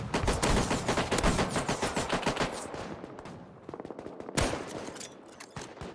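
Rapid pistol gunfire in a zombie video game mode: a fast run of loud, sharp shots for a few seconds, then scattered quieter shots and one more strong crack.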